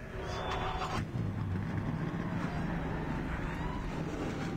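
Race car engines in a video game (NASCAR Racing 2003) roar and rumble continuously as cars pull off the grid at Homestead, a low droning hum with a shift in pitch partway through, dense and loud with no talking.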